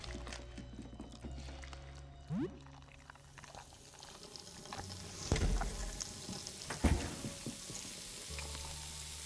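A looping toilet flush sound from the video game Look Outside runs the whole time as a steady watery pour and gurgle, moderately loud, with a few sharper splashes partway and no voices.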